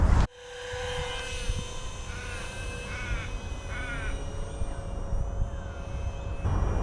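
RC model plane based on the Canberra bomber taking off and flying, a steady high motor whine held throughout over outdoor rumble, with crows cawing in the distance.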